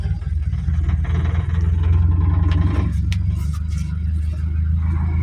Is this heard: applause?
no